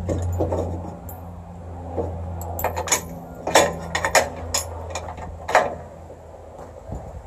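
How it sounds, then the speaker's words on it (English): A metal automatic trailer coupler is slid into position, giving a handful of light metallic clinks and scrapes over a low steady hum in the background, fairly close and quiet overall; no talking. "I'm just going to take my new one, slide it in right here, and I'm going to go to my second bolt hole."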